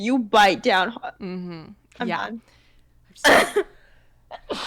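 A sneeze bursts out once amid casual conversation in a room, loud and abrupt, with people talking before and after it.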